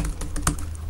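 Typing on a Lenovo Miix 2 10 keyboard, a quick steady run of close, crisp key clicks with one louder tap near the middle and no voices.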